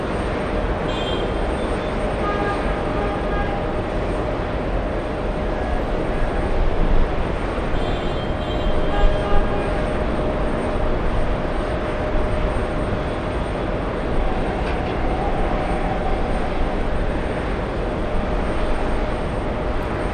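A British Airways jet arrives at JFK airport, its steady broadband engine roar running throughout, moderately loud and fairly distant, swelling slightly mid-way with no talk over it.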